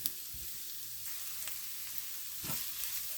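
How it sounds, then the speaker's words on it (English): Chopped onions sauté in avocado oil in a pan, a faint, steady sizzle with a couple of soft utensil knocks and a brief stir, close by with no talk. "I'm going to throw those onions in the middle there and saute these up for a bit"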